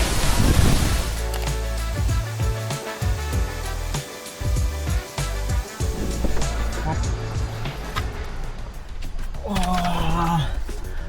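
A large waterfall in Kamphaeng Phet, Thailand roars as a constant broadband wash of falling water, with someone talking over it for most of the clip.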